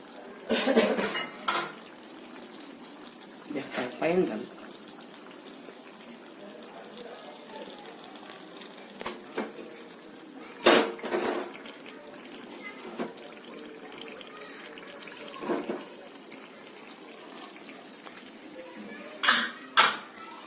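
Bombay halwa rich with ghee is scooped into a serving bowl, heard as scattered clinks and scrapes of a spoon against cookware in a kitchen, separated by quiet stretches.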